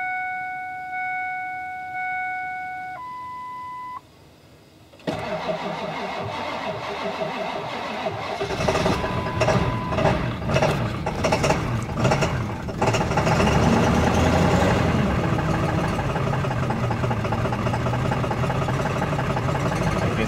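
A 2001 Ford F350 pickup cranks over and catches, then settles into a rough, loud idle that keeps chugging steadily. Several seconds of electronic beeping come first, before the engine starts.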